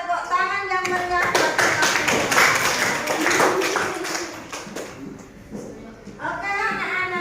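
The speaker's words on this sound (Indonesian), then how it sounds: "Tepuk tangan yang meriah." Children in a classroom clap together for several seconds, a dense burst of claps mixed with children's voices, with talking before and after the clapping.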